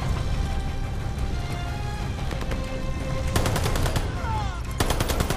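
Rapid automatic weapon fire in Call of Duty: Vanguard, dense bursts of crackling shots over constant loud in-game battle noise, with sharper repeated volleys near the end.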